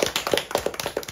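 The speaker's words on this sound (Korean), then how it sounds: "큰 박수 한번 드리겠습니다" A small audience gives a lawyer speaker a round of applause, with separate distinct claps in an uneven rhythm. They are fairly close and moderately loud, and no voices are heard.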